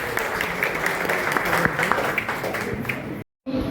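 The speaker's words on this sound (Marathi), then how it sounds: "टाळ्या टाळ्या" A crowd claps steadily at a Marathi engagement approval ceremony, a dense wash of hands over murmuring voices, cutting out briefly near the end before resuming.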